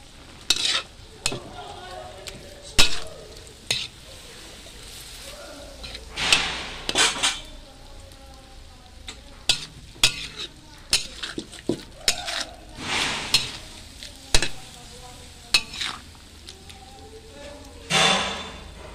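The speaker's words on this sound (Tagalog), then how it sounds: "hayaan muna natin gisang-gisa ang karne bago natin ilagay ang mga gulay" Meat sautéing in a pan sizzles steadily while a utensil scrapes and stirs against the metal in repeated, irregular strokes, close and clear, with no talk over it.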